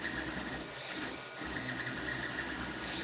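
A 3D printer nearing the end of printing a rocket part whirs and buzzes steadily at close range, with stepper motors humming in a continuous mechanical drone and no voices.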